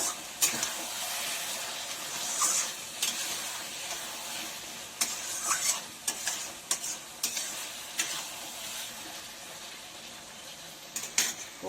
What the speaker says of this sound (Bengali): এক চামচ ঘি দিয়ে একটু নেড়ে